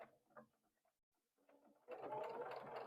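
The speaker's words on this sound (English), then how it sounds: "start your sewing at the top by the folded edge" Sewing machine stitching pieces of a Dresden quilt block together, starting at the folded edge: a steady, close mechanical whir with a rapid rhythmic patter. It starts after quiet handling noises and runs continuously to the end.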